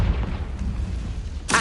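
The Confringo fire spell from the video game Hogwarts Legacy goes off in a deep, booming blast that rumbles briefly before a second sharp burst at the end.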